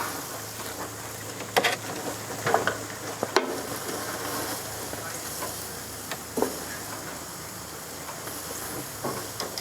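Ribeye steaks sizzle steadily on a grill beside baked potatoes, a continuous frying hiss with a few sharp crackles and pops rising out of it, close and moderately loud with no talking.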